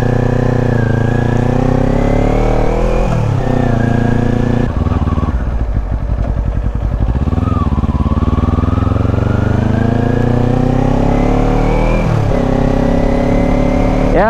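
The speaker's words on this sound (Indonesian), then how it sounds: "jadi paling untuk sesi test ride Ninja 250 Fi 2018 hijau ini segitu dulu ya guys" A green 2018 Kawasaki Ninja 250 Fi rides along a road near a construction site, its loud close engine revving up and down through gear changes with a steady roar throughout and no talk.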